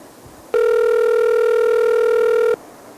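An outgoing telephone call produces a single loud, steady ringback tone lasting about two seconds, clean and close, with no voices.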